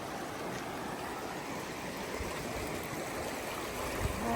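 A stream flowing across the Pacific Crest Trail at a water crossing, a steady, soft rushing and burbling of water heard alone from close by.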